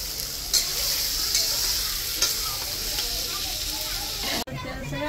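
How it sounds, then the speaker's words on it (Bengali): Potato pieces sizzle steadily in hot oil in a pan while being stirred, with a few scraping clicks of the spatula over the constant frying hiss before it cuts off abruptly. "এখন আলুটা দিয়ে ভালো করে কষায় নিব"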